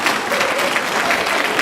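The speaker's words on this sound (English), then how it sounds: "You're clapping for it." A room of people applauding, a dense and even burst of clapping that is fairly loud and close.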